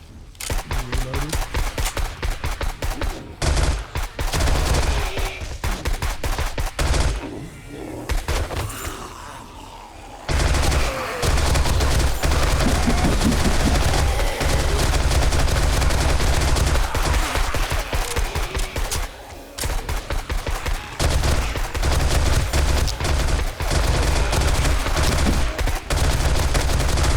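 Sustained automatic gunfire from the survival shooter 7 Days to Die, loud and dense bursts of rapid shots with brief pauses, running almost continuously with faint voices underneath.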